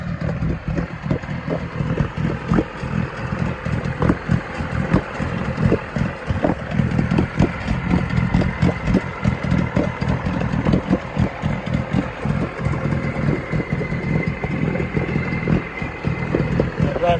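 A Yamaha 20A two-stroke outboard motor runs steadily, a close, even, buzzing drone with a fast regular pulse that holds smooth and unbroken throughout.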